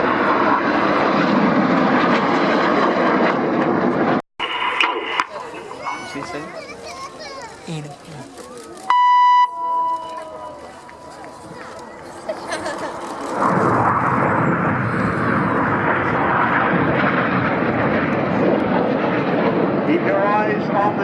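Aircraft engine drone from a Lancaster flying an aerobatic roll at an outdoor air display at RNAS Yeovilton, a loud sustained roar that dips and returns, with children's voices and an announcer talking over it.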